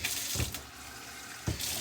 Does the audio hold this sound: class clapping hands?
no